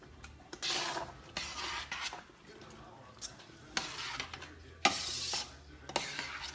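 Oregano being stirred into a large pot of chili, with repeated scraping, rasping strokes of a spoon against the pot and a faint sizzle beneath, fairly quiet and close.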